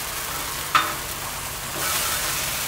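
Carne asada steak frying in a pan gives a continuous close sizzle with one sharp tap early on, and the hiss grows a little louder toward the end.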